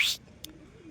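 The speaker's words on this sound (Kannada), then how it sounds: "ಇಲ್ಲವೇ ಪಾರಿವಾಳಗಳು." A single soft pigeon coo sounds close at the very start on a rooftop, followed by near silence with one brief faint tap.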